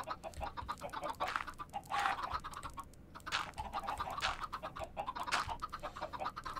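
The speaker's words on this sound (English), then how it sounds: "The sound of that many chickens" Many chickens clucking together in a dense, continuous flock chorus, with overlapping squawks and occasional louder cackles rising above the steady background clamor.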